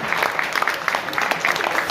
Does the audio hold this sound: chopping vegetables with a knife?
no